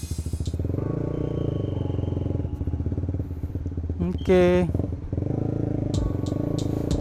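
A 2016 Honda CBR150R motorcycle with a modified, low-set handlebar, heard while being ridden: a steady, close engine drone that pitches up in a brief rev, with a short spoken word partway through.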